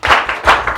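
A few loud, close handclaps from an audience at a Nigerian NNPP political rally, two quick pairs of claps over less than a second, with no voice over them.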